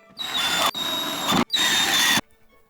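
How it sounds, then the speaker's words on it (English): A power drill drives a screw into a wooden bookcase in three loud, close bursts of high whining motor, each cut off sharply, the last followed by quiet. "so I can actually screw this in"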